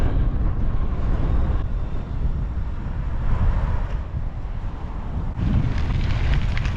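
Gusts of wind buffet the microphone outdoors on a mountain bike route between Whitefish and Seeley Lake: a loud, continuous low roar that swells and eases over several seconds, with no voices.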